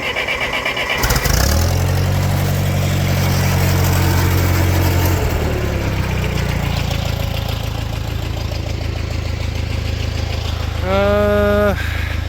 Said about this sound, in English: Let's hook her up to the tractor and start her on up.